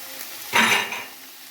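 Peas tipped into a pan with onions and meat, giving a brief burst of loud sizzling and stirring against the metal, then a lower frying hiss that lingers.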